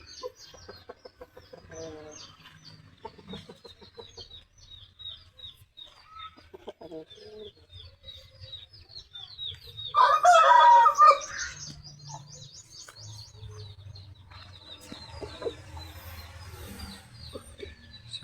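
Large Shamo roosters in a backyard cluck and call softly across the scene, with one louder burst of crowing-like calling in the middle, other birds cooing faintly around them.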